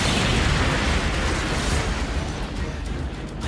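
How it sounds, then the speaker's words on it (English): A loud anime magic explosion spell bursts out in a dense, roaring blast that fills the moment and slowly thins as it rumbles on, with no voices over it. "Explosion, go!"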